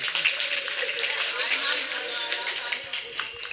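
Devotees at a Shrimad Bhagwat religious discourse clap together in a dense, continuous wash of applause, fairly loud and sustained across the whole moment, with a voice faintly underneath.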